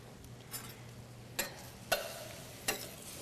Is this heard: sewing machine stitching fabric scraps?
no